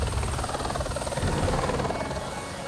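A firefighting water-bombing helicopter over a wildfire thumps and whines nearby, its rotor chop loud and continuous through the whole moment.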